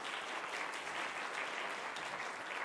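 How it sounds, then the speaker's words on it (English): Conference audience at a Marriott-hosted welcome session gives a round of applause, steady even clapping heard at a distance, fairly faint and unbroken. "Big round of applause for everybody."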